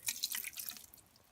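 Swanson unsalted chicken broth poured into an Instant Pot, a soft close trickle of liquid with light splashing that fades out after about a second, no voices.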